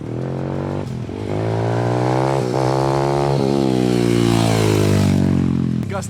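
A motocross bike revs hard up close during a wheelie attempt, its engine rising in several sustained climbing pulls with brief drops between them.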